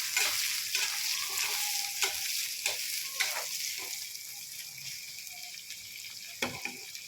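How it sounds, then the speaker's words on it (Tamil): Onions sauté with curry leaves in a pan, a bright crackling sizzle with repeated spoon scrapes and stirring knocks, close and fairly quiet, gradually settling, with no talking. "கருவேப்பிலை போட்டதுக்கப்புறம் வெங்காயம் போட்டு நல்லா வதக்கிக்கலாம்."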